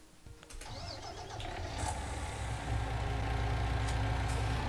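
A truck engine in a farming simulator video game cranks and starts, then settles into a steady, rising rumble with no talk.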